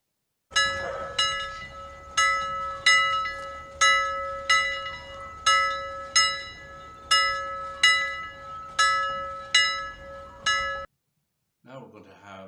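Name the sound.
bells ringing during a children's church service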